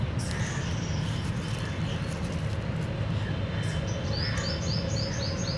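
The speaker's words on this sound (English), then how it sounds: "Here you can hear the different types of birds singing, chirping, tweeting." Several birds chirp and tweet on a summer day in heron habitat, with short, high, repeated calls that cluster toward the end over a constant low outdoor rumble, and no talk.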